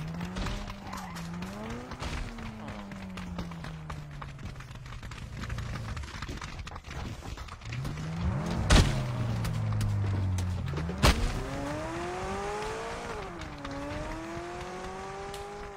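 A McLaren car races in a Wii video game, its engine tone climbing and falling through gear changes, with sharp impact-like bursts in the middle and faint game noise throughout.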